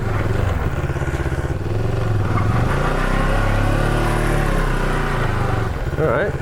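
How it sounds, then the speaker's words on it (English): A motorcycle engine revs hard and steady during a tire burnout, loud and close, with a droning, rising whine that holds throughout. "I just wanted to see if it had enough power to do a burnout"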